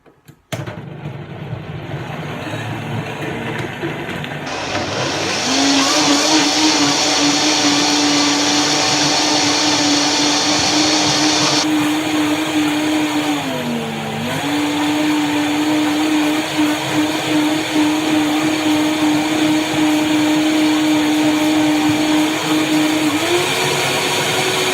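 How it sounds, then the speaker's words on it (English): A Vitamix blender runs steadily on a green smoothie of kale and pear, a loud continuous whir that ramps up at the start, dips briefly midway, and holds at high speed throughout with no talking. "And then all we have to do is blend this stuff."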